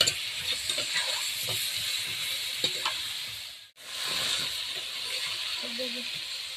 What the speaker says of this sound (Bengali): এবার চিকেনগুলোকে আমি একটু তেলের মধ্যে দিয়ে ভেজে নেব